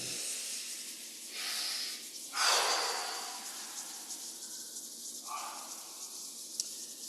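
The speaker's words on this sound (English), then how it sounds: "rubbing the palms together and breathing." Palms rub together with soft swishing friction, then a deep audible breath comes in and out, followed by quieter rubbing and breathing sounds close to the listener.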